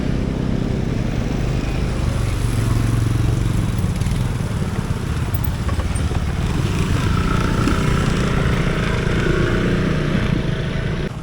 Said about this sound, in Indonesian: Yang dari sana belum selesai naik udah banyak lagi antrian motor-motor.